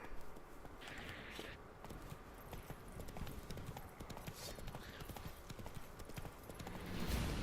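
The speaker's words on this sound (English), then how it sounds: "I'm gonna call my horse." A horse gallops in the video game The Witcher 3: Wild Hunt, with rapid rhythmic hoofbeats drumming steadily at low volume through the whole stretch.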